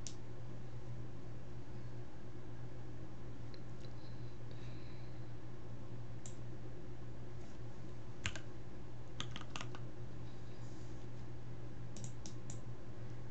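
Someone types on a computer keyboard in quiet, irregular bursts of clicky keystrokes over a low steady hum, with scattered pauses between runs of keys; no one speaks.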